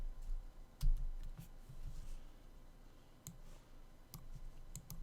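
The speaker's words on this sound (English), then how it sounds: "I'm going to type in a 5." Keys clicking on a computer keyboard as a single number is typed, a few sharp, close taps with short gaps and quiet room tone between them.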